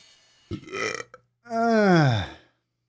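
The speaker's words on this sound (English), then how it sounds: "We got a burp coming up." A loud, drawn-out burp lasting about a second, preceded by a shorter rough burst; no one talks over it.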